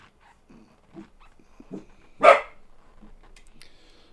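A dog gives one loud, close bark amid soft scattered shuffling and faint indoor noise, with quieter yips just before it.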